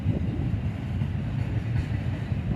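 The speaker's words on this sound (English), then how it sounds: "Probably one of the most empty intermodal trains you'll see on this line here." A largely empty intermodal freight train rolling past at Oak Harbor, a steady low rumble of wheels and cars, moderately distant and continuous with no voices.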